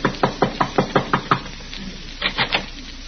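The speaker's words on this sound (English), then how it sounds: "As we rejoin Riley now, he is tapping a bit nervously at the door of Miss Jessup's apartment." Nervous knocking on an apartment door in an old-time radio comedy: a quick run of seven even, fairly loud knocks, a pause, then three more, with no talk over them.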